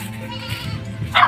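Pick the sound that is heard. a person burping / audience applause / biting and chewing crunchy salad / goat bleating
goat bleating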